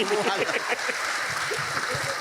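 An audience applauds during an Indonesian Islamic lecture about debt, a steady wash of clapping heard alongside a voice speaking over it.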